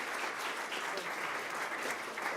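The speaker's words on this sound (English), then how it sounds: "I'd like you all to clap a bit" Audience applause closing a session of speakers at a conference, a steady, even patter of many hands clapping, moderately distant and soft, with no voices on top.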